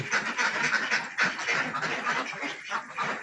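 Ducks from a batch kept on a mixed farm that also raises goats, cattle, buffalo, fish and native chickens, a dense continuous flock chatter of overlapping quacks filling the whole stretch at steady, moderate loudness.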